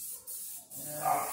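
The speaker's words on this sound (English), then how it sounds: "I always turn the can upside down and spray a little bit just to kind of clear out the nozzle" An aerosol spray can held upside down gives a couple of short hissing bursts to clear its nozzle during rust repair on an M151A1 jeep, close by with brief gaps between sprays.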